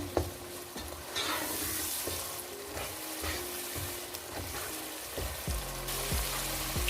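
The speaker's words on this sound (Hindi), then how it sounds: "अब इसे अच्छे से मिक्स कर लेते हैं। और थोड़ा सा इसको भूनेंगे" Masala for chicken bhindi being stirred and fried in a pan, a steady sizzle with repeated scraping strokes of the spoon throughout, close and fairly loud, with no talking.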